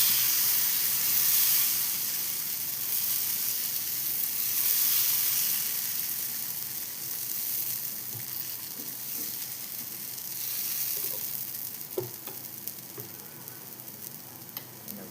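Spicy lentil adai dosa batter spread on a hot griddle sizzles in a loud, continuous hiss that swells and eases slightly, with a few small ticks and pops toward the end and no talking.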